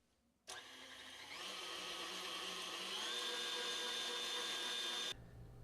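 Electric mixer beating sponge cake batter switches on abruptly and whirs loudly and steadily, its pitch rising slightly as it speeds up, then cuts off, with no talking.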